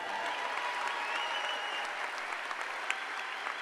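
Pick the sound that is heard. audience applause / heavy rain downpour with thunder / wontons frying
audience applause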